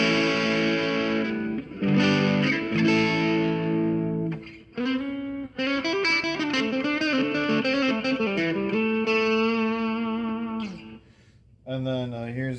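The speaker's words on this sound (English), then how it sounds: "Here's with the crunch tones with the my vintage overdrive" Electric guitar played with a crunchy overdriven tone through a vintage overdrive pedal, loud chords and riffs ringing out in bursts with brief pauses between phrases.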